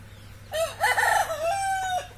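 A rooster crows close by in one full drawn-out call of about a second and a half, rising and then holding, with a quiet background of chicken sounds.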